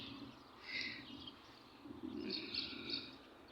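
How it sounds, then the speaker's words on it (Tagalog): Birds, likely pigeons among them, chirp faintly outdoors in a quiet morning setting, with soft scattered calls over steady low background hum. "Ayan, ang daming ibon."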